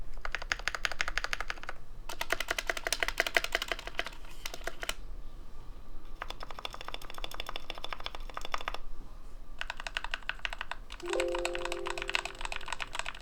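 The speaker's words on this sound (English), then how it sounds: "a little comparison between the keycaps being lubed and this style keycap" Rapid clacking of a custom KBD Fans Tofu 60 mechanical keyboard with lubed keycaps in several bursts separated by short pauses, close and fairly quiet, with a brief tonal ding near the end.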